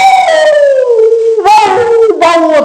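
A dog howls in long, wavering, rising-and-falling cries, loud and close, with a short break before two more howls follow.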